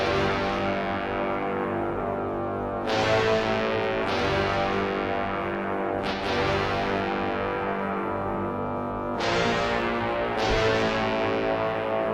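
Layered brass stabs from SRX Orchestra and SRX Studio trumpet and trombone acoustic brass plugins in a dark hip-hop beat, several punchy chord hits over a thick sustained brass bed, loud with no voices.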